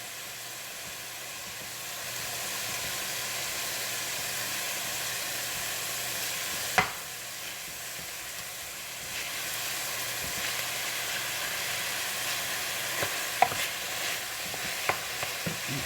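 Partly frozen meat sizzling as it browns in a soup pot, a steady close frying hiss with occasional stirring scrapes and a few sharp clinks.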